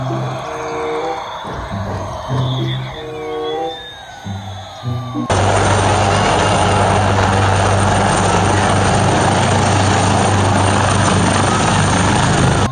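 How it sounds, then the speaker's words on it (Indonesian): A military helicopter's rotor and engine roar comes in abruptly after several seconds of lighter tonal sounds, then holds loud and continuous to the end. "Helikopter militer"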